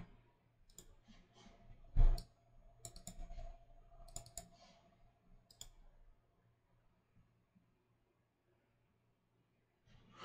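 A computer mouse clicking: a series of sharp, close clicks, one louder than the rest, spaced irregularly over several seconds, then a pause and a final click.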